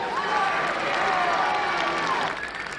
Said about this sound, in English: Big round of applause to all of those student athletes